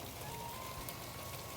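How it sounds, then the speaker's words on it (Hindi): Heavy rain pours down steadily after a storm in a yard, a dense continuous hiss of drops hitting surfaces with no voices. "ये देखें कितनी तेज़ बारिश हो रही है"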